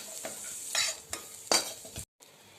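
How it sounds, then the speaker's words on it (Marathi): Masala roasting in a little oil in a pan, a soft sizzle beneath irregular scraping strokes of a spoon, with a few sharper scrapes and a brief silent break. "मसाला छान लालसर परतून घेऊया आपण।"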